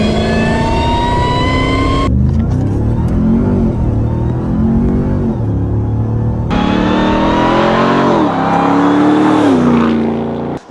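The high-output engine of a 2025 Ram 1500 RHO pickup revs hard and close. Loud rising and falling swells are interrupted by abrupt cutoffs and restarts.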